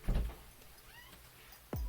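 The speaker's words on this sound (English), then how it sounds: "let me let the cat in." A pet cat meows at a door to be let in, two distinct close cries, one at the start and another near the end, separated by quiet room sound.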